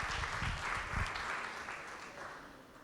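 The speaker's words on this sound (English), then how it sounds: "Give them a round of applause." A room of people applauds at an awards and recognition church service, a steady wash of many hands clapping, fairly soft and distant, slowly tapering off.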